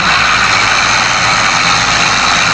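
An HMT 5911 tractor engine running hard, a loud, steady, heavy diesel roar that stays constant and close throughout.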